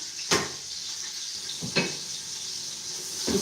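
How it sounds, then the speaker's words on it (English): Onion fries in hot oil in a pot for a Nigerian beef stew, a steady close sizzle broken by three brief louder clattering stirs. "to fry the onion a bit"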